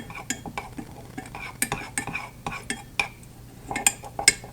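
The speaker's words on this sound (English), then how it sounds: "Okay, stir." A hardening facial mask mixture being stirred in a small bowl, with quick, close clinking and scraping strokes in an irregular rhythm and soft voices underneath.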